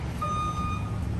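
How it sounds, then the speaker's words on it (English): A gas delivery truck backs up, its reversing alarm sounding as a steady high tone over a low diesel rumble, moderately close in an outdoor setting, with no talk. "That's the gas truck delivering gas."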